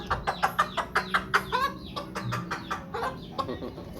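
A protective mother hen clucks in a quick run of sharp, close calls, then pauses and resumes with softer, irregular clucks, with faint background noise.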